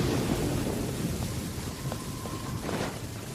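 Steady rain with a low rumble of thunder in Genshin Impact, a constant close wash of falling water throughout.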